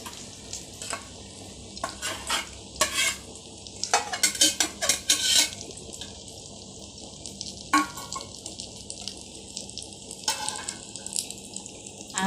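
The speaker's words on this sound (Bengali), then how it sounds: "পুরির সাথে যে ডিম ভাজি করা হচ্ছে।" Eggs frying in a pan alongside puri, a steady sizzle broken by repeated scraping and stirring clatters of a utensil against the pan, with occasional louder bursts.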